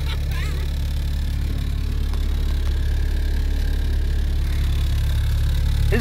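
A K-swapped rear-wheel-drive Mitsubishi Starion's engine hums steadily from inside the moving car, a constant low drone throughout with faint road noise.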